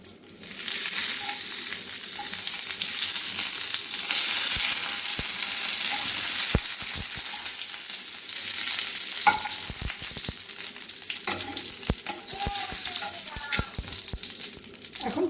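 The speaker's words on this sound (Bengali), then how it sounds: "এখন সামান্য একটু তেল দিয়ে দেবো। আর ফোড়নে দেবো জিরে জিরে আর তেজপাতা।" Cumin seeds and bay leaves sizzle in hot oil for a tempering, a steady close crackle with scattered clinks and taps from stirring, and no one speaking.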